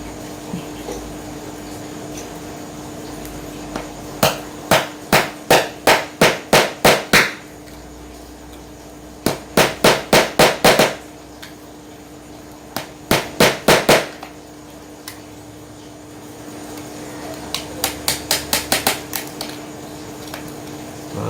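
A cutter scrapes and cleans out a cut hole in a cabinet for a sliding door, making rapid clusters of sharp, loud clicking strokes in bursts of five to ten, separated by short pauses over a faint steady hum.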